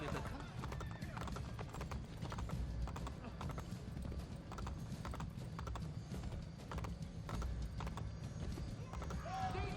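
Horse hooves clip-clop steadily in Assassin's Creed Brotherhood, a continuous trotting rhythm under game noise, with a whinny near the end and someone talking over it.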